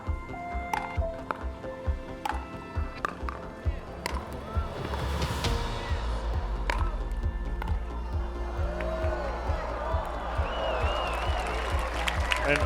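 Crowd applause breaks out at the 2021 USA Pickleball National Championships, rising into a sustained, fairly loud wash of clapping and cheering that follows sharp paddle hits, with a commentator talking over it.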